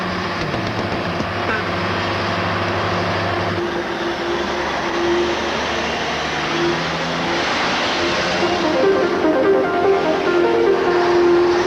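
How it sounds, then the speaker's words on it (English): Turbocharged ERF lorry driving: a loud, steady engine drone with a low rumble and rising tonal whine, continuous throughout as the vehicle keeps moving. "the turbocharged ERF keeps right on going"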